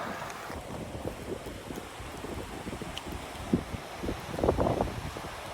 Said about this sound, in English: Massive gust.